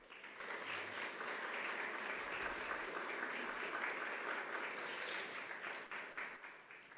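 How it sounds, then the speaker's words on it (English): Applause from a church congregation during a Sunday service, a steady wash of clapping that holds for about six seconds and then fades toward the end. "That's worth a round of applause, folks."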